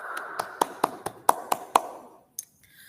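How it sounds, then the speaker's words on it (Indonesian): In an online class, a short, sparse round of applause for a student group: about eight crisp, evenly spaced claps, close and fairly loud, fading into quiet with one last faint clap. "Kita beri tepuk tangan dulu untuk kelompok 3."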